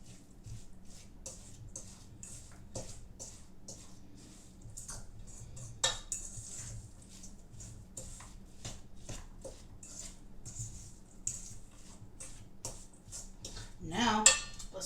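Possum pie filling is mixed in a bowl, with repeated soft clinks and scrapes of a utensil against the dish in an uneven rhythm, close and fairly quiet, building to a louder clatter near the end.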